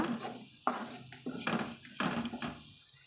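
Grated coconut being sautéed with jaggery in a pan while making sweet paruppu poli: close, irregular scraping and clinking of a utensil against the pan, with quiet cooking noise underneath.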